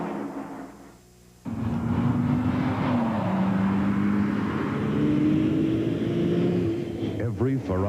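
NASCAR Winston Cup stock cars race at the 1988 Daytona 500, a loud sustained engine drone with shifting pitch as the cars roar past, heard under continuous commentary.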